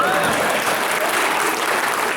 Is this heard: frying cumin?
no